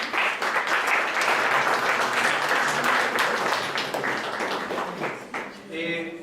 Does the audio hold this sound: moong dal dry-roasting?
no